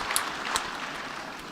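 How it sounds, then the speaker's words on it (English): Audience applause from a recorded climate speech at a summit, a soft, somewhat distant patter of clapping with a couple of sharper claps standing out early, quiet throughout. "And then everybody claps like seals"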